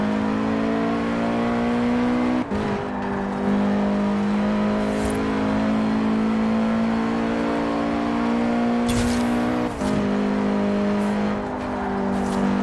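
A VW Scirocco in Forza Horizon 4 drives with a steady, loud engine drone held at high revs, briefly dipping at two gear shifts before settling back into the same sustained tone.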